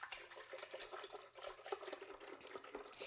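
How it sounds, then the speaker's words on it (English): Almond milk pours steadily into a high-speed blender, a soft continuous liquid splash and gurgle at low level with no one speaking. "So I'm going to add my 3 cups of my almond milk."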